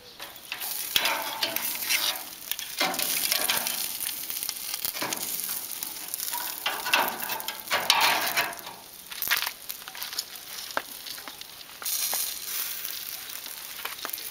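Chicken leg quarters sizzle and crackle steadily over a mangal grill, a dense continuous frying hiss with scattered pops and sharper crackles throughout, close and fairly loud with no talking.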